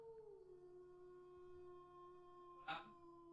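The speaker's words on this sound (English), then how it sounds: "sound thing was a wolf howl." A wolf howl used as a stream alert sound effect, a faint long sustained howl that slowly falls in pitch, over a quiet game background with a brief soft burst near the end.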